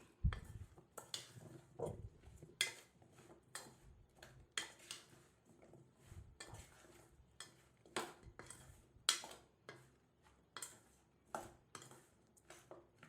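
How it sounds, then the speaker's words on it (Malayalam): A spoon stirs a dates and lemon pickle mix with salt and chili powder in a bowl, giving a steady run of light clinks and scrapes against the bowl, close and quiet, with no talking. "നല്ല രീതിയിലൊന്ന് മിക്സാക്കി എടുക്കാം"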